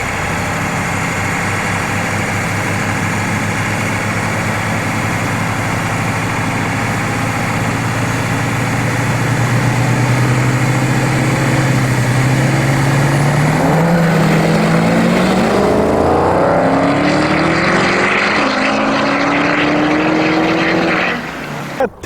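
A modified 1994 Dodge Ram 1500 pickup engine runs loud and close, holding a steady droning idle before revving higher with rising, wavering tones, then dropping off abruptly at the end.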